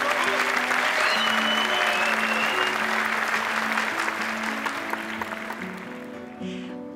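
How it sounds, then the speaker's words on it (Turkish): A large audience at a stage event gives sustained applause, loud at first and slowly fading, with music playing underneath the clapping. "Bütün bizim buluşmalarımızı ayarlayan, bu yolun mimarı İpek Boran'a kocaman bir alkış istiyorum sizden."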